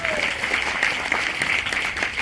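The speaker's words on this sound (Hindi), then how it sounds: "एक बार जोरदार ताली इनके लिए होनी चाहिए" An audience at a meeting claps loudly and steadily for a couple of seconds, dense applause at a constant level.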